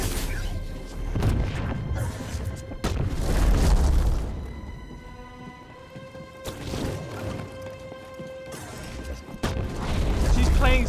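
A Force flashbang in Star Wars Jedi: Fallen Order goes off amid combat, with several heavy booming bursts and crashing impacts separated by brief ringing, tonal lulls, loud and close.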